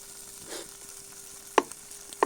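Highland butter hitting chicken in a pan, a soft sizzle with light stirring and two sharp clinks of a utensil against the pan near the end, fairly quiet with no talk.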